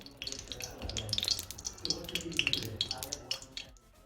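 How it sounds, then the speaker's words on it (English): Steady crackling and hissing of water droplets sizzling in hot cooking oil, with sharp pops scattered throughout, close and continuous. "drop it into the oil, and then you'll hear it sizzle"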